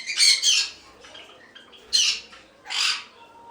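Lovebirds in breeding-pair cages on a conure farm give harsh, close squawks, several bursts in a few seconds with quieter chatter in between, no talking.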